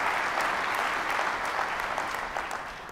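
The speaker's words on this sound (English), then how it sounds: "let's give another round of applause to those award winners" An audience gives a sustained round of applause for award winners at a cybersecurity industry event, with dense, even clapping throughout and no voices over it.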